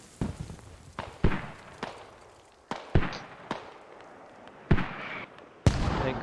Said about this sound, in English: Enemy mortars coming down